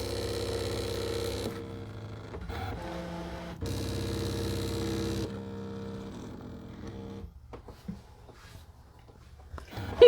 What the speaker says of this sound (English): it's going to do another test cut.